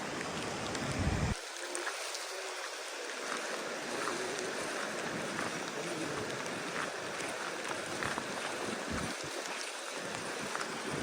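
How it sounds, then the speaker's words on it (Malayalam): A river flows strongly with a broad, steady watery rush and wind-like noise that continues throughout, with brief dips and no talk over it. "പക്ഷെ നല്ല ഒഴുക്കുണ്ടല്ലോ വെള്ളത്തിന്"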